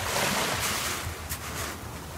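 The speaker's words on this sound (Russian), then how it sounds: "Был небольшой дождик, поэтому волны" Sea waves wash onto Aitar beach near Sukhum, Abkhazia, after light rain, a continuous surf rush with soft swells, no voices.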